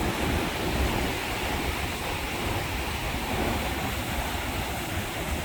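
Rough ocean waves on a Philippine coastline produce a steady, broad wash of surf with wind noise on the microphone, continuous and fairly loud throughout with no talking.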